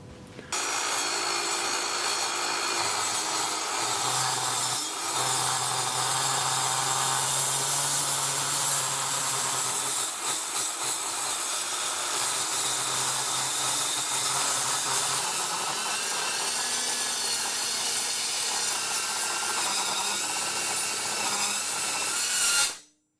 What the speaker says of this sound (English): I'm going to chop a little piece off the end here to make the Conrod